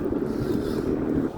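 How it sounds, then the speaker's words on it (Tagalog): Steady wind rushes and buffets the microphone outdoors on a downtown street in Regina, a continuous low roar with no voices. "mahangin."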